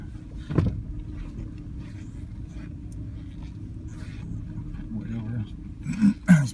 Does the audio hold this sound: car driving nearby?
yes